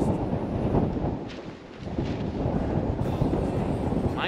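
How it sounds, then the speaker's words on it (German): Strong wind gusts through an outdoor garden during Dutch oven cooking, a loud, rough buffeting roar against the microphone that dips briefly and then surges back, with no talk over it. "Mein Gott, ist das windig."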